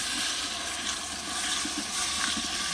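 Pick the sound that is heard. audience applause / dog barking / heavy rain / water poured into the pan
water poured into the pan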